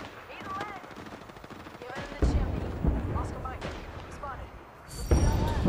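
Bursts of gunfire in the Apex Legends video game: sharp shots and short volleys at mid distance, mixed with game effects, under people talking.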